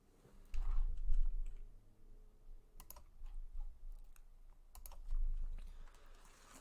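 Close clicking of computer keyboard typing, bursts of keystrokes with short gaps between them, a few louder clacks standing out.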